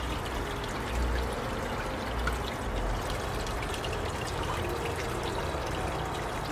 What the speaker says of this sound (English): We'll go ahead and just like rinse it out,